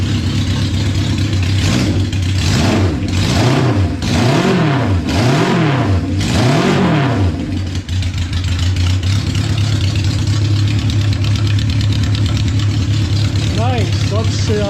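A 1972 Honda CB500 Four motorcycle engine, just fixed with a new spark plug, revs up and down in several rising and falling sweeps, then settles into a steady close idle with a brief blip near the end.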